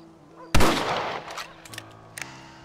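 A sharp rifle shot cracks out loud in Red Dead Redemption, then decays through a long ringing tail, with a smaller second report shortly after.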